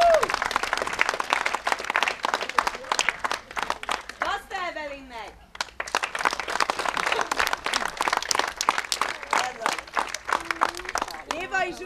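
An audience applauding at the closing performance of a children's theatre camp, sustained dense clapping in a hall with voices calling out over it.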